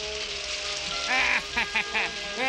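Steady cartoon rain hisses down throughout a Smurfs scene, with a character's voice speaking over it in the second half.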